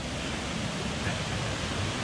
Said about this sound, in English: Here's a waterfall I mentioned.